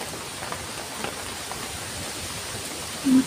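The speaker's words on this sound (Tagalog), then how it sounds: "Malakas naman yung ulan sa yung hangin." Heavy rain driven by strong wind, a dense continuous hiss of downpour with a short louder gust or thud at the end.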